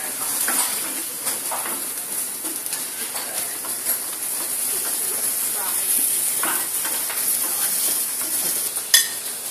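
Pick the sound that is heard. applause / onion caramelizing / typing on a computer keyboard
onion caramelizing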